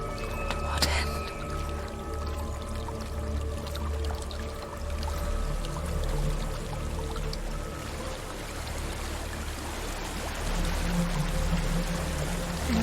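Steady flowing water in Hellblade: Senua's Sacrifice, a continuous rushing wash that runs unbroken throughout, with a sharp knock near the start and low rumbling underneath.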